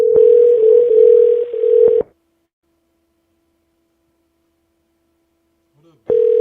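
A steady telephone ringback tone sounds loudly for two seconds while a phone number is being called, then stops into near silence before resuming again at the end.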